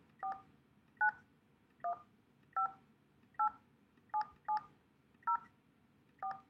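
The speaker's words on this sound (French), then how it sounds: "vous allez pouvoir composer directement un appel" Telephone dialing tones beep one at a time as a call is composed, nine short evenly spaced keypad tones over a quiet background hum with no talk.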